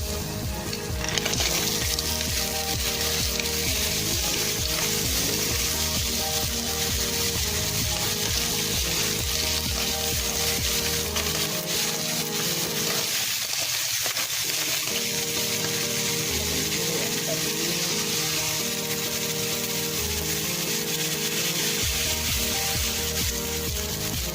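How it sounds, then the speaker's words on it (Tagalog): Mussels tipped into a hot pot for tinolang tahong hiss and sizzle steadily up close, with stirring scrapes and a brief dip in the frying noise partway through; no one speaks. "yun po natin ilagay yung tahong"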